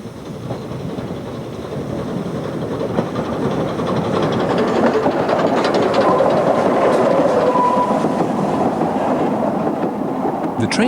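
Narrow gauge train on a Welsh railway, carrying a narrow gauge Pullman car near the rear, gives a steady loud rumble and rolling rail noise that builds slightly and holds throughout, with faint clatter and no talking.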